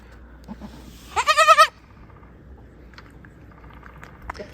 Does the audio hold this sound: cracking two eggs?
no